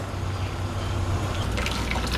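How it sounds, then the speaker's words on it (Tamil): Water pours and gushes steadily as boiled elephant foot yam is drained, with a brighter splashing trickle toward the end. "கொதிக்க விட்டு வடிச்சிருங்க."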